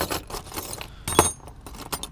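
Old metal keys, including barrel keys and solid steel ones, jangle and clink together as they are sorted outdoors in the sunshine, in several close, irregular bursts with one sharper clank.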